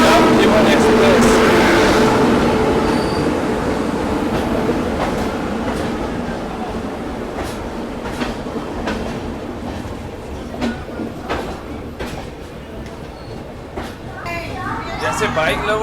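The Navjivan Express, running from Ahmedabad to Chennai, rumbles along platform 9 with a steady low roar and faint clattering, gradually easing, while people talk nearby.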